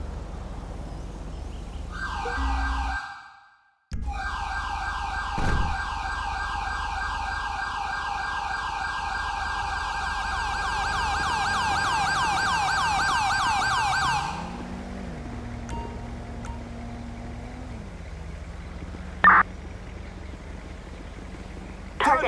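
Ambulance siren in GTA V wailing in a steady rising-and-falling pattern for several seconds after a brief cutout, then stopping abruptly, followed by a lower engine hum and a couple of sharp clicks.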